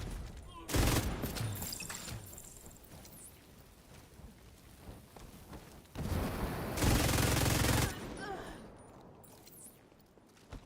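Gunfire bursts out in The Division 2, with two loud, sustained volleys separated by quieter stretches of background game noise and occasional talk.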